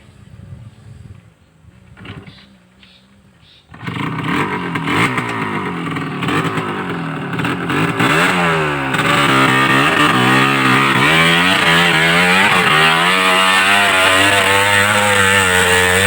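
An ojek motorcycle engine starts after a quiet opening, then revs hard and repeatedly, rising and falling in pitch before settling into a loud, sustained high drone close by.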